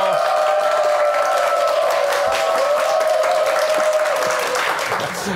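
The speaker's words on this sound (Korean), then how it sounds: "박수로 환영해 주시죠" Studio audience of a Korean morning talk show applauds to welcome a real estate expert guest, steady full clapping with light cheering and music running throughout, fading slightly near the end.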